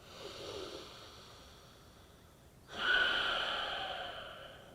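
Deep, audible breaths taken during a beginner's yoga pose, a slow inhale followed by a louder, longer exhale, close and unaccompanied by talk.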